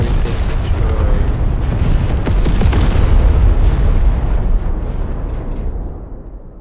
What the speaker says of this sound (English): What even blew up? Oh, the explosives box. I forget that thing can explode.